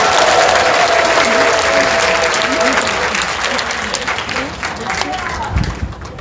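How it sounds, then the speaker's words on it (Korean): A seminary audience gives pastor Son Won-bae a welcoming round of applause at a special lecture: a full, continuous wash of clapping from a crowd that holds steady and tapers slightly toward the end. "손원배 목사님을 박수로 환영하겠습니다."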